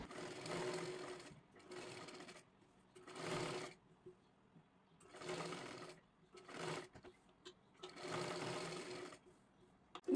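A sewing machine stitches around a kurti neckline, running in several bursts of steady whirring separated by short pauses, close and alone without talk.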